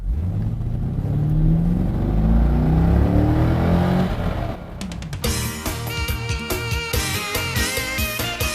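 A car at Royle, a quarter-mile drag strip in Scotland, revs hard with a loud, rising engine roar, then cuts to a rapid sequence of sharp gear-change bursts and a high, staccato engine note.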